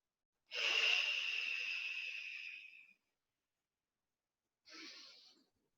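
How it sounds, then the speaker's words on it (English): Slow breath out through pursed lips, a long airy exhale of about two seconds followed by a shorter soft breath, close and alone in a quiet room during a beginner exercise class. "the breathing is in through your nose and out through your pursed lips"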